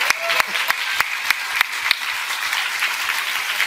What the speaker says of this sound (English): I love how I got a round of applause for not knowing something